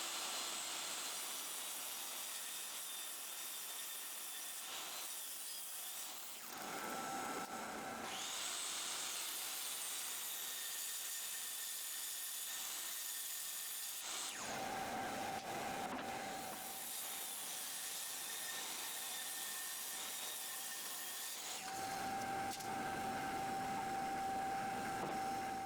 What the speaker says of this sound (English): On the table saw, putting the 2 jointed face against both the fence and the table saw surface, I cut about 1/8 of an inch on the other side.